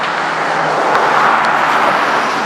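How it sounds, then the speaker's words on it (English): Steady traffic on a busy main street in Southwest Harbor, Maine, a continuous close roar of passing cars that fills the whole scene without voices. "it's kind of a busy road here, so there's a lot of traffic noise"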